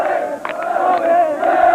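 Crowd of Bristol Rovers football fans cheering the team bus through North and East Bristol, a sustained loud mass of shouting voices with a few sharper cries rising above the roar.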